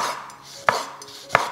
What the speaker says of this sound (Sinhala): මේකත් මේ වගේ හීනියට කපා ගන්න පුළුවන්